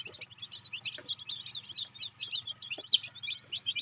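Chickens chirp and peep in a busy, continuous chorus of high calls, close and moderately loud with a few louder cheeps.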